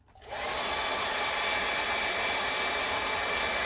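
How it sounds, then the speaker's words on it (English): A hair dryer switches on and blows with a steady, loud, high-pitched whoosh that holds constant throughout. "I'm going to go ahead and hit it with my dryer"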